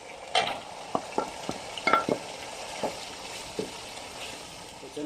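Keema frying in a pan after tomatoes and green chilies go in, with a series of short stirring scrapes and sizzling bursts over a quiet background, recorded close.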